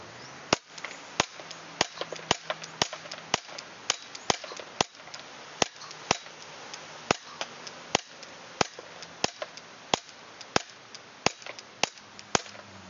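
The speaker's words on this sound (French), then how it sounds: "Maintenant on va passer au test de tir." Sharp, distinct shots from an SA9 CO2 blowback air pistol, roughly two dozen cracks fired in an uneven but steady string, close and alone with no talking.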